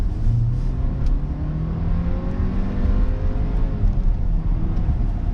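A 2019 Audi Q7, a heavy luxury SUV, accelerates from a rolling start: a loud, close engine drone with a rising pitch that climbs through the gears, heard from inside the cabin with no talking.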